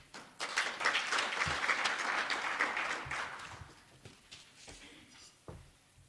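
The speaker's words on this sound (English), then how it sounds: "Another hand of applause for him, please." Applause from a conference audience at a national PPP conference on biodiversity funding gaps, breaking out suddenly, holding for a few seconds, then thinning to scattered claps.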